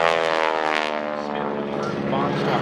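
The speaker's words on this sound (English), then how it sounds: "Today, Vicki Benzing enjoys flying this airplane on countless" A World War II era propeller training airplane flies past at an airshow, its engine a loud, steady droning hum with rich harmonics filling the whole stretch, a narrator's voice audible over it.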